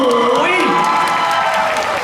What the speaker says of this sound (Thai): เสียงปรบมือด้วยครับ